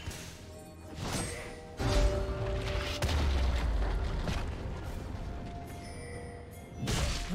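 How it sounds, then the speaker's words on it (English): A League of Legends turret being destroyed, with heavy booming impacts and crashing explosions rolling through several seconds, punctuated by sharp hits near the two- and three-second marks and again at the end. "Red team's turret has been destroyed."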